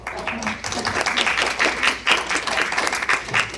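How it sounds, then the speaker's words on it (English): Applause at a school board meeting fills the room, a dense, steady patter of many hands clapping throughout, close and loud, with voices mixed in. "Don't clap for me, but we'll clap for the kids."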